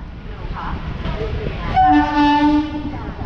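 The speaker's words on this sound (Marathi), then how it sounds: "चला आपली ह्या साईडने सुटली ट्रेन रोहा चिपळूण आणि त्या साईडने नेत्रावती एक्सप्रेस." Roha–Chiplun MEMU local train departing: a loud horn blast sounds near, with steady harmonic tones for about a second over a rumbling background, after some quieter rail noise.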